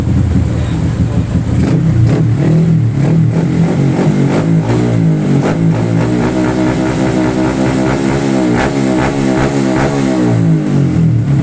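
A carbureted motorcycle engine fitted with a Spark135 racing ignition box revs loud and close, rising and falling in steady repeated throttle blips over a rough idle for the full length.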